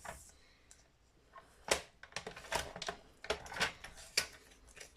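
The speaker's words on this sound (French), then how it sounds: "On prend ces petites marques et on va le découper comme il faut." Scissors cutting paper scraps for a scrapbook album, a series of close, crisp snips and rustles at an uneven pace, fairly quiet.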